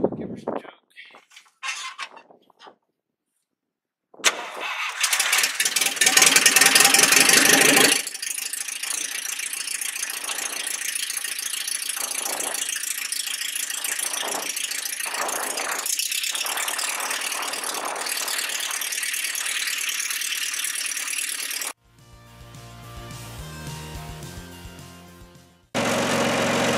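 International C135 engine after a rebuild, cranking in short bursts, then catching and running loudly with a steady mechanical rattle for over a dozen seconds, followed by a lower, rougher stretch and a brief resumption near the end.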